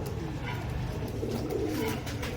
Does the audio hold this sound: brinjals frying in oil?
no